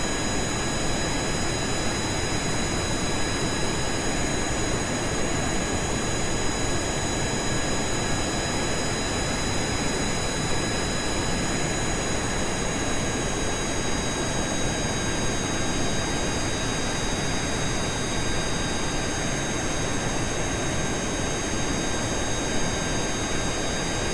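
A jet engine in the space flight game Kerbal Space Program gives off a steady, loud, continuous roar with a broad rushing hiss and faint high whine, unchanging for the whole stretch with no talking.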